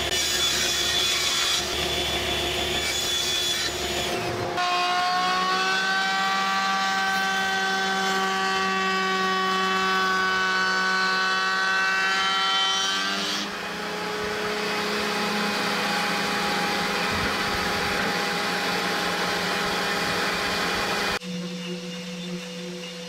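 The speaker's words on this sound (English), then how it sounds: "I will finish sand this with the Festool sanders up to 220." Festool sanders finish-sanding a wooden table top up to 220 grit give a steady, loud whirring drone with tonal hum that shifts partway through, running continuously without talk.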